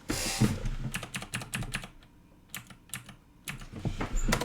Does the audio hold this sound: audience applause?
no